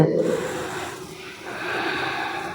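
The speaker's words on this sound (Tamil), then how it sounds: "நல்ல மூச்சு இழுத்து ஒரு மூணு டைம் விட்டுடுங்க" During a guided Christian meditation, a slow, deep breath is drawn in and let out, a soft, close airy hiss rising and fading over a few seconds.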